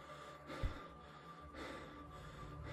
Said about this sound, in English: I could have sworn I just heard someone breathing